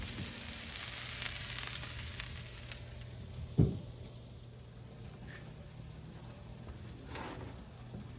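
Vegetables frying on a Blackstone griddle outdoors in the snow, a steady close sizzle and crackle throughout, broken once by a brief knock partway through, with no voices.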